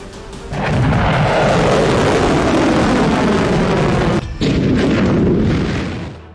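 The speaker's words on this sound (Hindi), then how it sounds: "यमन से हुआ ये मिसाइल हमला देखिए।" Missile strike fired from Yemen at Israel, a loud, sustained rumbling blast that swells quickly and roars for several seconds with a brief dropout before fading.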